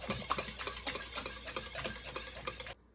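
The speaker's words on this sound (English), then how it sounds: "whisk it into them until combined" A whisk beats white cake batter ingredients, including salt, in a bowl with quick, rhythmic scraping strokes for several seconds, then stops abruptly. The sound is close and moderately quiet, with no voices.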